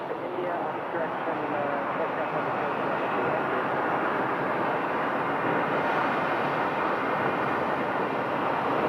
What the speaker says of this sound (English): to be a small twin-engine prop. Looks like it would be approaching the north runway.